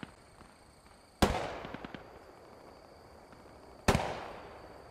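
Distant gunfire in the Post Scriptum military video game: two sharp cracks a few seconds apart, each trailing off with echo over quiet ambient hiss.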